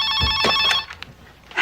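A telephone rings in a quiet suburban home as an incoming call arrives, with one clear ring burst followed by a second shorter trill, loud and close, with no voices.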